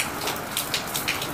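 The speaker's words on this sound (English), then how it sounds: "It's raining." Night rain falls in Alice Springs, a dense hiss with scattered louder drops pattering close by on a surface, steady and without voices.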